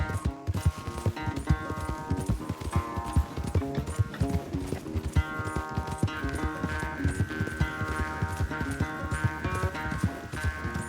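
Rhythmic clip-clop of galloping horse hooves in Red Dead Redemption 2, steady and fairly close, layered over game music with sustained melodic tones.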